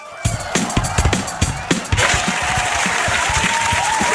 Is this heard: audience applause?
yes